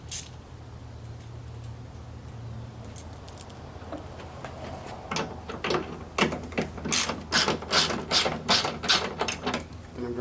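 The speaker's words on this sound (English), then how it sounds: "I'm going to remove the T30 Torx up here." A ratchet loosening T30 Torx bolts, starting quiet and then breaking into a close run of quick, evenly spaced metallic clicks that grows louder over the last several seconds.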